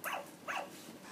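A toy dog gives two short, thin electronic barks in quick succession at close range, followed by a faint hiss.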